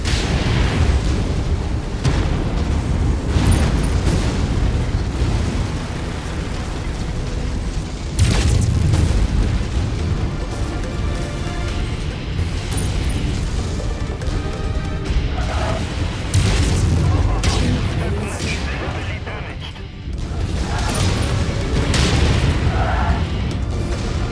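Repeated incoming missile explosions in MechWarrior 5: Mercenaries, heavy booming impacts that strike several times in rapid succession with a constant rumbling battle din between them, loud and close, mid-battle in a Hunchback mech.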